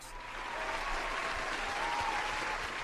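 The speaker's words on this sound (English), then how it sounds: "Travis, I would love to give you a round of applause." Sustained applause from a wedding party crowd, steady and fairly loud throughout, with no other voices standing out.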